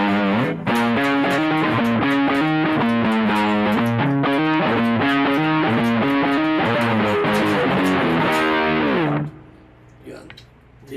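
An electric guitar played through a drive pedal on the neck pickup gives a loud, distorted run of picked notes for about nine seconds before cutting off into quiet room noise.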